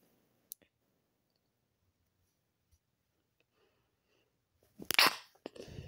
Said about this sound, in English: Sorry, guys, I just sneezed.